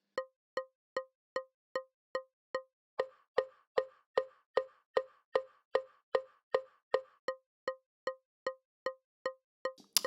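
Woodblock strikes, a sampled real woodblock alternating with a physically modeled one, ring out as about two dozen sharp, evenly spaced hollow knocks, clear and close with no other sound.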